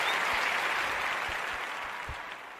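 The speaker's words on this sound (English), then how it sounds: "Let's give Divine another hand of applause." Sustained applause from an audience at a poetry night, a thick wash of clapping that slowly fades toward the end.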